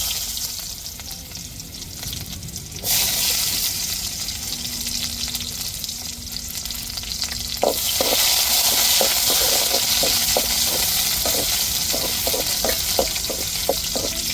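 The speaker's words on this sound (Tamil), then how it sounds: "எண்ணெய் சூடேறிட்டு கடையில் சேர்த்துக்கிடுவோம் வெங்காயம் சேர்த்துக்கிடுவோம்" Onion dropped into hot oil in a kadai crackles into a steady, loud sizzle, with scattered sharp pops and stirring clicks toward the end.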